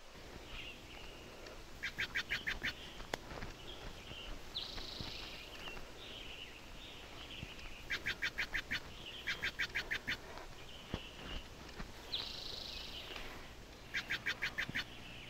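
Birds gather at a large old oak tree in the morning, with bursts of rapid chirping calls repeating every few seconds, some quacking-like notes and wing flaps, over a soft outdoor background.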